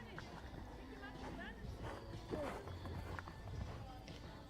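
Horse hooves thud and clip-clop across a show jumping course during a competition arena round, a steady run of strikes heard at moderate distance beneath crowd chatter and a commentator talking.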